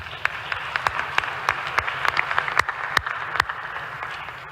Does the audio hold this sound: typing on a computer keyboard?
no